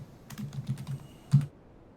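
Quiet, close keystrokes on a computer keyboard as code is typed, a short burst of light taps ending with one firmer key press.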